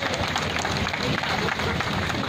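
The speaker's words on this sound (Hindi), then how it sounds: "हम उनका ताली बजाकर हृदय से स्वागत करते हैं।" A conference audience at a railway employees' union youth event claps to welcome the general manager, dense, continuous applause filling the hall at a steady level throughout.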